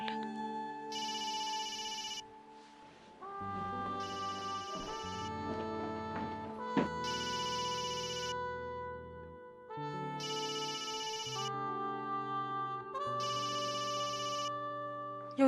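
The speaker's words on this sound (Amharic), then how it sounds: "የውጭ ስልክ ነው መሰለኝ።" Telephone ringing with an incoming call from abroad: a repeated electronic ringtone pattern in regular bursts with short pauses, clear and steady throughout with no talk.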